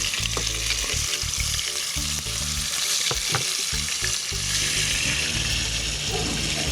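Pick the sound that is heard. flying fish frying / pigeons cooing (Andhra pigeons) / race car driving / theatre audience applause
flying fish frying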